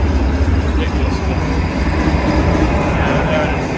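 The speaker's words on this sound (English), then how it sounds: "The engine, I believe, it's just here. It's very loud." A loud, steady train engine roar fills the space, a constant heavy rumble with faint rattling and no pauses, heard from inside a passenger train in Northern Ireland.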